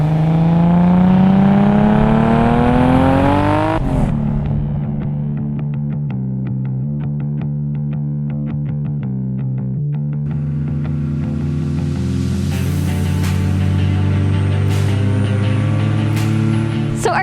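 Tuned time-attack car with an Evo 8 4G63 engine, loud and close, revving up in pitch then settling into a rough, buzzing drone with sharp pops and crackles.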